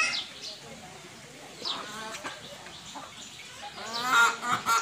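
Native chickens clucking on a small farm, with scattered close clucks and calls that grow busier toward the end, under a quiet background.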